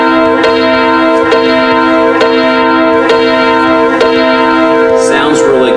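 Keyboard seventh chord with a third interval added below, played as five evenly spaced strikes that each ring on, bright and close with no voices.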